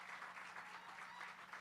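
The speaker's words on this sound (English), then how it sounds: "big round of applause for Nick" Audience applause at a village State of the Village 2023 address, a steady wash of clapping from a crowd, fairly faint and distant, lasting the whole moment without talk.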